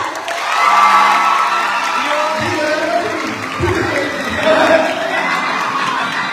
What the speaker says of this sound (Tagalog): Mayor, pumapalakpak sila.